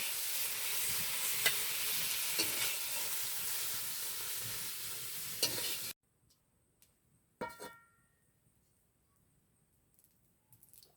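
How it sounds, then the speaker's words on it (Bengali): Shrimp frying in a pan give a loud, steady sizzle with a few stirring clicks, then it cuts off abruptly into near silence broken by a brief clatter. "চিংড়ি মাছটা ভেজে নেওয়া হচ্ছে।"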